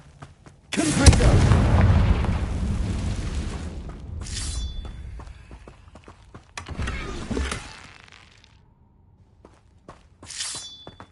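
A Confringo fire spell explodes in Hogwarts Legacy, a loud booming blast that rumbles and fades over a few seconds, followed by a second explosive burst and bright magical chimes.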